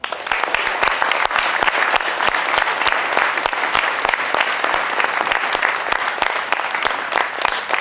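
An ovation from the audience at an opening ceremony in Villejuif, France, loud sustained clapping from a large crowd with distinct sharp claps standing out through the steady roar.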